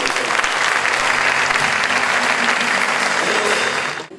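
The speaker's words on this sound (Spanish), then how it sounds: "Den un aplauso fuerte, Señor." Loud, sustained applause from a church congregation, a thick continuous roar of many hands that holds steady for about four seconds before cutting off abruptly.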